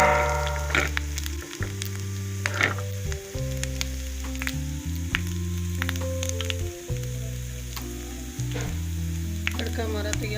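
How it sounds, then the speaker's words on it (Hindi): Garlic and ginger tadka sizzling steadily in hot oil for masoor dal, a continuous close frying hiss with small pops and crackles, overlaid by bright musical tones; no one speaks. "लहसुन अदरक का तड़का बना रही हूँ।"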